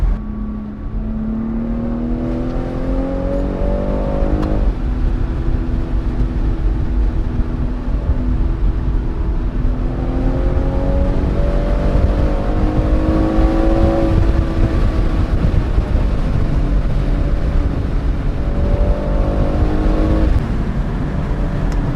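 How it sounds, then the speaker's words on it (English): A BMW M240i's engine climbs through the gears at speed, its pitch rising in repeated sweeps with brief drops at each shift, loud and close with steady road roar. "let's see how this car can handle the higher speeds."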